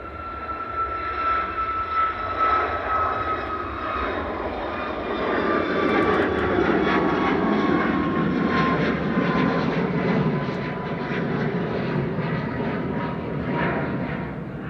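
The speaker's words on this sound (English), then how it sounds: "There goes Ryanair to Malaga, 9HVVN, flight 3208, 737 MAX 8 200, operated by Malta Air." A Ryanair Boeing 737 MAX 8-200 jet airliner operated by Malta Air passes over Manchester Airport at sunset, its engine roar loud and steady with a thin whining tone, swelling slightly midway and sustained throughout, with no talk.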